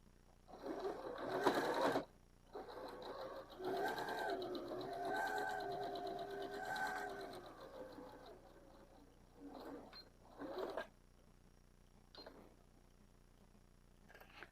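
Sewing machine top stitching a fabric crayon caddy, running in several bursts of varying length with a rhythmic whirring hum, separated by short pauses and quieter handling.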